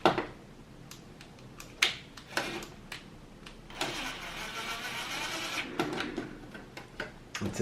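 A cordless power tool drives screws during a Samsung TV repair: short clicks and taps, then a sustained whirring burst of nearly two seconds, followed by more scattered clicks at moderate volume.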